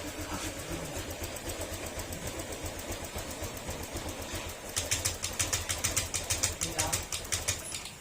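A Honda Click 125 scooter engine with a check-engine fault and ECU damage idles steadily with a rough, pulsing chug, growing slightly louder and more throbbing toward the end.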